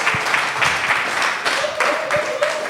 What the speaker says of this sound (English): Can everyone give Fumi a round of applause?